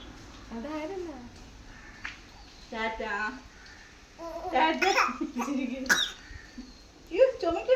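A baby girl coughs several times in short bursts close by, mixed with babbling and small vocal sounds, with an adult voice speaking softly in between.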